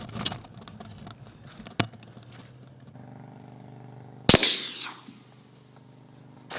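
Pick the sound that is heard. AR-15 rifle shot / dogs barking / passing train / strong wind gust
AR-15 rifle shot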